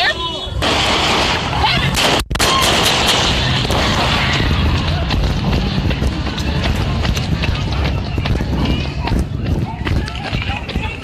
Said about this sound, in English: They're shooting in the air, bro.